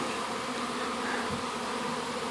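Bees buzz steadily around a bait hive near a cluster on an overhanging beech branch, a faint continuous hum with no voices.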